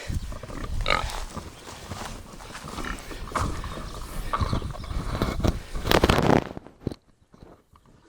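Pigs scuffle and grunt close by in a farmyard, a dense, continuous stretch of snorts, rustling and trotting hooves that ends abruptly near the end, leaving faint background noise.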